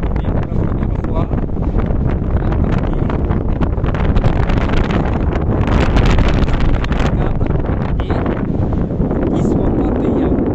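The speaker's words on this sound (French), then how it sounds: "il y a un vent de fou qui vient d'en bas" Strong wind rushing up from below near waterfalls roars and buffets the microphone loudly and continuously throughout, with a voice partly buried in it.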